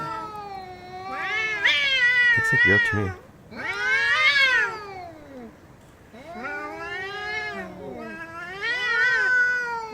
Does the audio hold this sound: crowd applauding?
no